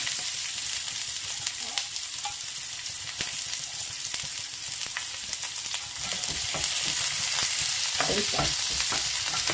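Onion, coriander and curry leaves fry in oil for chutney, giving a dense, close sizzle with frequent crackling pops. Stirring scrapes run through it, and the sound grows slightly louder toward the end.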